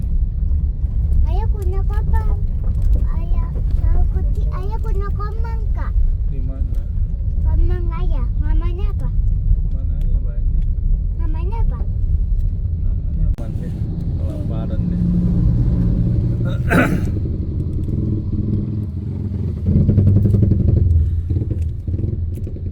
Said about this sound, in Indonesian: Jalannya banyak kendaraan lalu lalang.